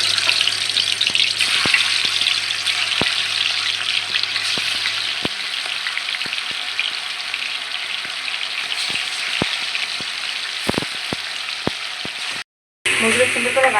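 Chicken pieces fry in hot oil with a steady, dense sizzle and crackle that runs throughout, joined by scattered pops and a brief cutout near the end.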